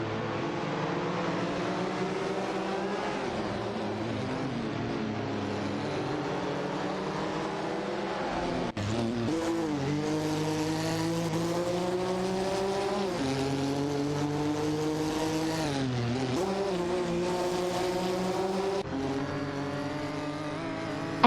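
Race cars in a video game, a Mercedes-Benz GTR and a McLaren F1 GT among them, drone in a continuous, layered engine whine whose pitch rises and falls as they shift and accelerate.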